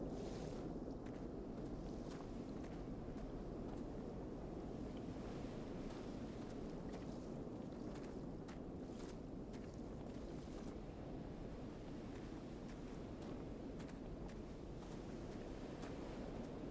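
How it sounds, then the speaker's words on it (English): Steady washing water ambience in the video game Firmament, a continuous broadband rush like waves or flowing water, even and unbroken throughout with faint clicks on top and no talking. "I thought I heard water."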